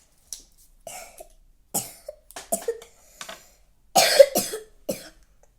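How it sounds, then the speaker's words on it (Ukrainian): A sick woman coughs repeatedly in short, scattered bursts, with a heavier cluster of coughs toward the end; close and fairly loud. "Вибачте, що я кашлю, я просто захворіла."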